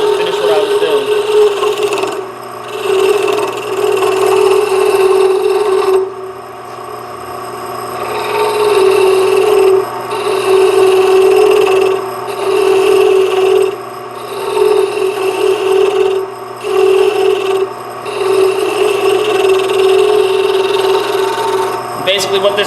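A skew chisel cuts a carbon-tipped call striker spinning on a wood lathe, giving a continuous raspy scraping hum in repeated passes broken by short pauses.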